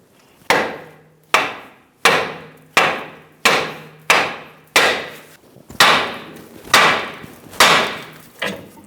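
A hammer strikes the side of a steering knuckle on a 2010-2014 Subaru Outback about ten times in a steady rhythm to pop out the ball joint, each loud, close blow ringing briefly before the next.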